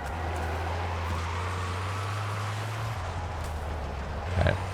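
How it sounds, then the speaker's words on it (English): The engine of an LTV vehicle in Call of Duty: Warzone rumbles steadily as it drives, a low continuous drone that shifts pitch midway, ending with a brief louder thump. "I'm gonna whip the car around right here"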